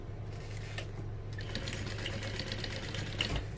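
A sewing machine runs a basting stitch on a vintage barrel bag, a steady close motor hum with a faint rhythmic clatter throughout, no voices.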